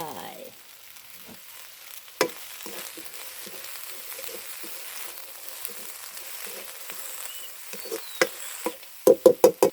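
Gymnema greens and egg being stir-fried in a pan, a steady close sizzle with scattered spatula scrapes and a run of sharp knocks against the pan near the end.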